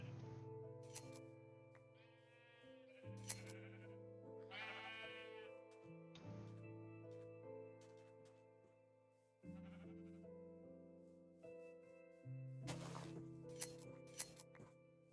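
Sheep in the Minecraft video game bleat repeatedly in short, clear calls spaced across the span, over a steady layered game music or ambient tone, with a few light clinks.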